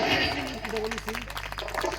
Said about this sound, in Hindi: सभी लोग तेजी से ताली बजा दें।